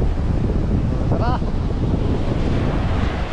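Strong ocean waves and wind at a fishing spot on the Oman shore, a steady loud roar of surf with heavy wind buffeting the microphone throughout and a brief high call rising above it.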